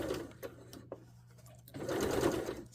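A sewing machine stitches in the ditch of the binding on a lounge wear top, with short quiet bursts of whirring, then a longer, steadier run of stitching near the end, close and soft.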